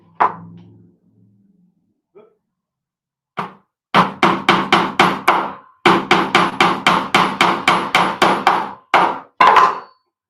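Cheap nails being hammered into wood while building a model train helix: a rapid run of loud, close hammer blows in quick regular bursts, after a single early knock and a short quiet gap.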